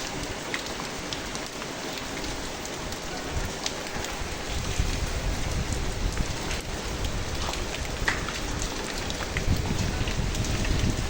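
Steady rain falls during Cyclone Remal on a rooftop garden, a dense continuous patter on surfaces with drops ticking close by and faint wind, loud and unbroken throughout with no talk.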